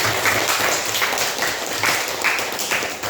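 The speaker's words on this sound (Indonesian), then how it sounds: "kasih aplaus untuk Andi" Classroom applause for a student after answering at the front, a steady burst of clapping from a group filling the whole moment without speech.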